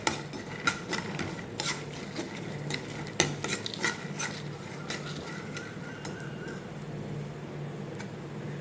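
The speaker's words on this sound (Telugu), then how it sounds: "ఎండు కొబ్బరి ముక్కలు కూడా వేసేసాను కదా, ఫ్రై అవుతున్నాయి" Dry coconut pieces fry in ghee with spices while a spoon stirs the pan, with scattered metallic clinks and scrapes over a soft, steady sizzle.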